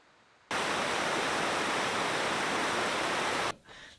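A mountain waterfall roars in a dense, steady rush, close and loud, cutting in abruptly and dropping away just as suddenly near the end.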